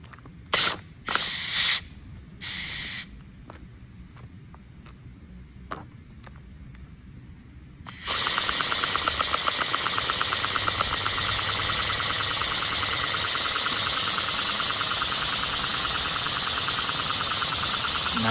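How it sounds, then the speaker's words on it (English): A homemade inline four-cylinder engine driven by an air compressor clicks a few times, then starts up into a loud, fast, even mechanical chatter that runs without a break to the end. "It's about to be the first run with the Inline 4 with the air compressor."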